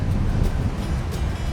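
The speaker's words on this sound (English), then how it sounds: "It's a little windy, but the wind feels good" Steady wind gusting outdoors on a bright sunny day, a continuous low rumble of buffeting air against the microphone throughout with no talking.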